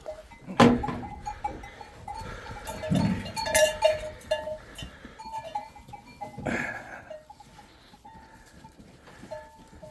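Sheep bleat in a few short bursts amid clanking bells and shuffling during vaccination, with a busy livestock pen atmosphere throughout.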